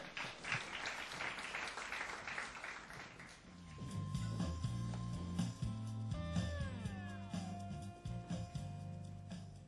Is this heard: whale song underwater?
no